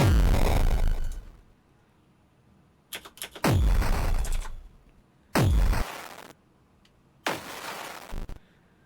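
A gritty, distorted sample plays in several loud bursts separated by silences, each hit harsh and crunchy with a booming low start.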